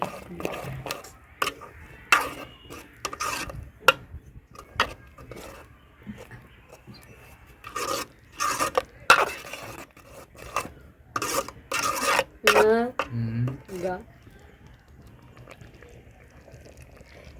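Oats being mixed by hand into a dough in a bowl, giving repeated soft rasping, rubbing strokes in uneven bursts with occasional light clinks against the bowl, close up and moderately loud, with no voices.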